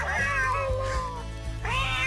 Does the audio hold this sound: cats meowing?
yes